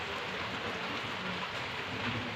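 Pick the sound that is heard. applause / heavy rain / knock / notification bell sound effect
heavy rain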